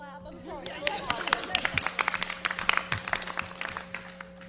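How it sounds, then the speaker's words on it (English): Applause from a board workshop audience, a scattered patter of hands clapping over a steady background hum, lasting a few seconds at moderate loudness. "Deserves a clap."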